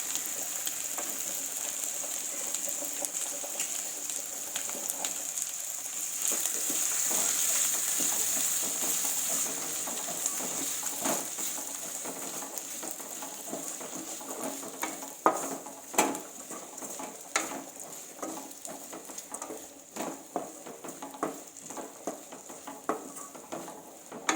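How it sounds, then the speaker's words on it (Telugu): Small cut potato pieces frying in a pan for aloo fry give off a steady, close sizzling hiss. Scattered clicks and taps of stirring rise toward the end. "ఇప్పుడు చిన్న చిన్న ముక్కలుగా కట్ చేసి పెట్టుకున్న పొటాటో పీసెస్ని యాడ్ చేయాలి"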